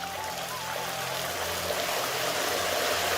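Chicken pieces drop into hot oil with chilies fried until blackened, giving a steady, loud, broadband sizzle that holds evenly throughout with no talking.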